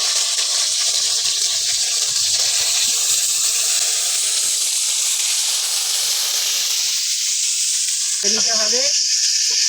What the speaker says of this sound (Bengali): এবারে এক এক করে মাখানো বেগুনগুলো তেলের উপরে দিয়ে দেবো কড়ায়।